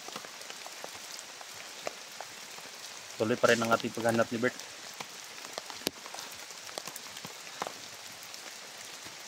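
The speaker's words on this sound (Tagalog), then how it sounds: "Tuloy pa rin ang ulan." Steady light rain pattering on a surface throughout, with scattered drops; someone speaks briefly partway through.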